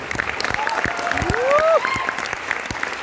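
A school audience at a motivational speech breaks into applause, a dense wash of clapping with voices and a whistle-like tone rising through it.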